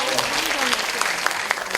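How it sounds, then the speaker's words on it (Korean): Applause from a union audience for two members being recognised at a 2021 general strike rally, a dense wash of clapping with a few sharper claps standing out near the end. "두 분 박수 좀 보내주세요"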